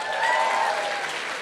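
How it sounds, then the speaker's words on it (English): Audience applause at a Homeland cast and crew panel on espionage in popular culture at the Hayden Center: a dense, steady wash of many hands clapping, held at an even level throughout. "That was a Washington clap."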